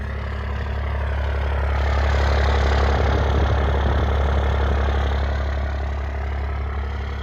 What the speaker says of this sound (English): This thing sounds sick.